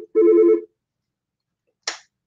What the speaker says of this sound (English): Let me unplug my phone.